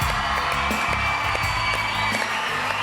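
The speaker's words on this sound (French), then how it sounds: "Applaudissements, mesdames, messieurs." A television studio audience applauds and cheers loudly and continuously, with whoops and shouts rising over dense clapping.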